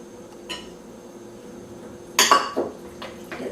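Metal spoon clinks against a bowl as carrots are stirred into rabbit pot pie filling, a few sharp scraping clatters in a quiet kitchen, nearby and moderately loud.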